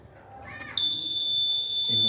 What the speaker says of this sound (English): invalid, access denied, alarm will be on.